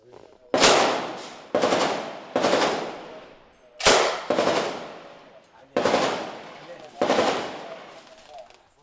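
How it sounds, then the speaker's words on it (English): Gunfire from fighters shooting at the enemy from a building during the battle for Sirte rings out in heavy, echoing bursts, loud and near, each shot's reverberation trailing off between bursts. "A few floors above, they're preparing to fire at the enemy."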